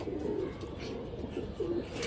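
Soft pigeon coos, two low murmuring phrases separated by a pause, heard close against a steady background hum.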